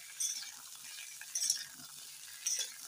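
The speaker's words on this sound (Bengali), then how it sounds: "পটল আলুটা একটু ভাজা হচ্ছে" Pointed gourd and potato frying in a pan give a faint, soft sizzle broken by a few brief crackling bursts.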